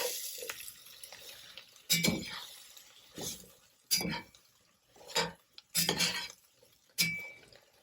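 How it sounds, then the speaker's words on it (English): Eggplant and andouille sausage cooking with fennel get stirred in a pan, a quiet background with several separate bursts of scraping and clinking utensil strokes spaced a second or so apart. "Stir."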